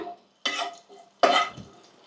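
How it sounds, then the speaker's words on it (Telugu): Bay leaves, cardamom and cinnamon hit a hot pan in two short bursts of sizzle and stirring, with brief clinks of utensil on metal between them. "ఒక రెండు పలవాకులు ఒక ఇలాచి కొంచెం దాల్చిన చెక్క లైట్గా వేసుకొని ఇవి కొంచెం వేయాక"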